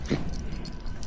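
A Yorkshire terrier named Lucy lets out a short whimpering yip near the start, then goes quiet against steady outdoor background noise.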